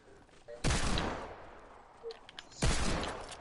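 Two sharp, loud gunshot blasts in a video game, each with a decaying tail, separated by about two seconds with faint clicks in between.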